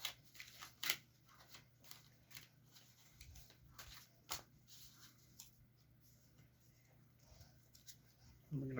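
Quiet, sporadic papery riffling and soft taps of cards being shuffled, with a few sharper clicks scattered through.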